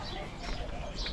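A pigeon coos softly in the background near its coop in a home yard, a faint low murmur partly buried under general noise and nearby activity.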